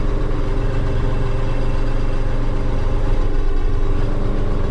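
An HGV lorry engine runs at low, steady revs while a big machine is unloaded, a constant deep rumble with no talk over it.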